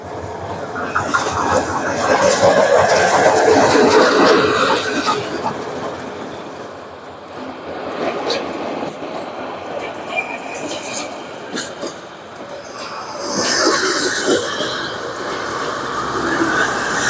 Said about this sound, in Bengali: এই যে ট্রেনের আসার শব্দ শোনা যাচ্ছে।